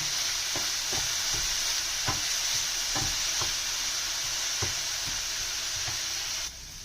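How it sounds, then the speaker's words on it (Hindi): Chopped onions fry over a low flame with a continuous bright sizzle and hiss, while a spoon scrapes and taps the pan at irregular intervals, close and steady, cutting quieter at the very end, with no talking. "प्याज डालने के बाद आपको इसका फ्लेम स्लो करना है और स्लो पे आप उसको फ्राई करना है।"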